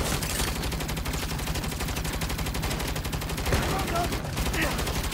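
Sustained rapid gunfire in Saints Row, a dense machine-gun-like stream of shots that runs loud and unbroken through the whole clip, with a brief voice over it.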